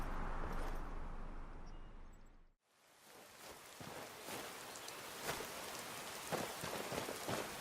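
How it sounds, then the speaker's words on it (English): Rain falls in Skyrim, the fantasy video game: a dense, steady hiss of downpour with scattered drop impacts, briefly cutting out before resuming just as heavily. "Unfortunately it's raining, but that's okay."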